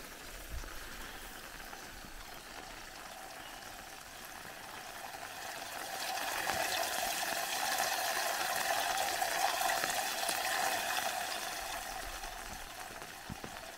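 Water trickling and flowing steadily along a swale canal fed by runoff from a road, a soft, continuous outdoor gurgle that swells slightly midway, heard alone without voices.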